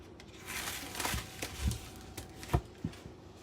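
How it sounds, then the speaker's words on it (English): Plastic steak packaging crinkles and rustles softly as raw steak is pulled out, with a few dull thumps and handling knocks close by in a quiet kitchen, no talk. "So you're going to take your steak out of your package."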